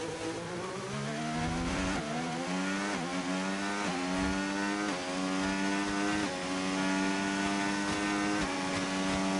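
A Lotus Formula 1 car in F1 25, racing at Austria, screams through repeated upshifts. The loud, close engine climbs in pitch and then drops at each gear change, running continuously with no speech over it.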